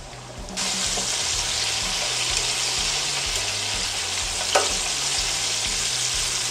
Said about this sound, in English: I'm just going to set them right down in the oil and let them cook.